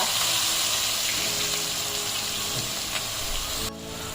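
Onion dropped into hot oil with asafoetida, a loud steady close-up sizzle that holds throughout and drops slightly in level near the end.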